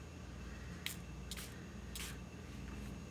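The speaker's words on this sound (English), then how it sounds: "So I'm going to do a little spritz here." A few short spritzes from a water spray bottle onto a card, three distinct hissing bursts with brief pauses between them, faint and close against a quiet background.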